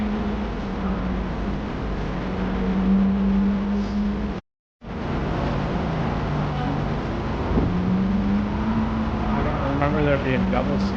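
Engine drone of race cars circling the raceway on the Norwegian Prima cruise ship, a steady loud hum with a brief cutout partway through and rising whine toward the end.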